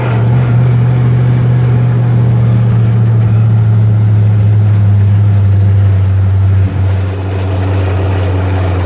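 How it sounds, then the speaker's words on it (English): A 1967 Corvette's engine through straight side pipes gives a loud, steady, deep drone with a constant low rumble, running continuously and close by with only a brief dip near the end. "These are straight pipes. They just have the dimples for noise control."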